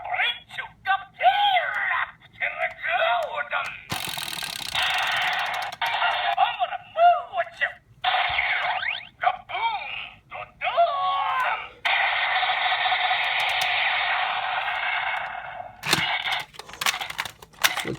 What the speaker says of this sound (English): Let's see what sounds this bad boy makes.